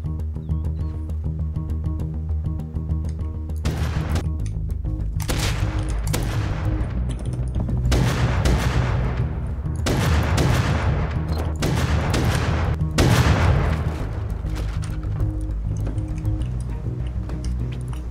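Continuous rapid gunfire crackles in repeated bursts over a dense, rumbling background in a Rust game battle, with no pauses.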